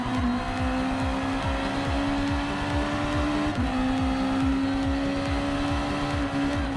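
A Honda NSX Super GT race car from Gran Turismo Sport drones at high revs, its engine note held nearly level with a quick shift midway and rapid pulsing underneath, loud and continuous throughout.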